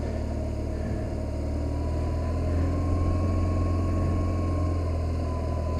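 BMW R 1200 GS motorcycle riding on a newly replaced brake disc while the brake is lightly applied, giving a steady, continuous engine and road drone with no clear breaks.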